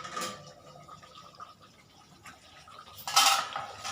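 A metal lid clatters as it is lifted off a pot of spicy fish curry, with a short clink at the start and a brighter metallic rattle near the end amid quiet kitchen sounds.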